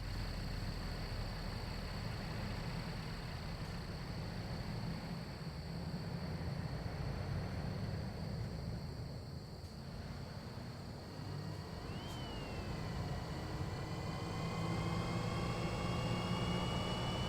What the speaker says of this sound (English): There is engine sound, for now.